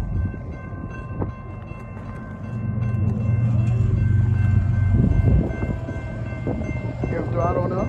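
A freight locomotive working up a hill near Chillicothe, Illinois, its diesel engine rumble building louder as it throttles up, a steady low drone with passing clatter, heard outdoors with some background voices.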